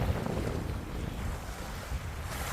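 Ocean waves wash onto a beach under gusting wind, with rough, rumbling wind buffeting the microphone over a continuous, fairly loud rush of surf.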